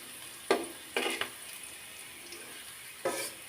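Red amaranth greens fry with onion and garlic in a pan, giving a faint, soft sizzle that is broken by a few short bursts of stirring or scraping.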